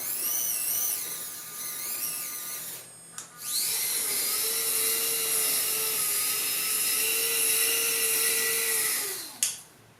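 A cheap RC winch motor runs under throttle with a steady high-pitched electric whine that cuts out briefly, then spins up again and holds a loud, even drone before stopping, with no talking.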